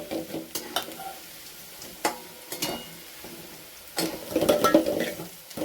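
Red chili powder is stirred and sautéed in hot oil for a spicy toor dal tempering, with a soft sizzle under irregular scraping spoon strokes against the pan that grow busier toward the end.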